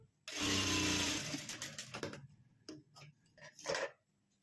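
A sewing machine runs in a long continuous burst while stitching a blouse, then slows into several short, separate stitching runs, close and clear with no talk over it.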